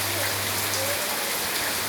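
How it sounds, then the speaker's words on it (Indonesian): Heavy rain pours steadily in a morning setting, a dense, even hiss of drops hitting surfaces, close and continuous, with a faint low hum under the first half. "suasananya lagi hujan banget."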